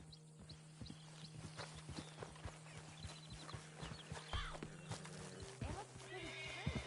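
Steady clip-clop of horse hooves with a horse whinnying partway through, over a low hum and some background voices, in the video game Red Dead Redemption.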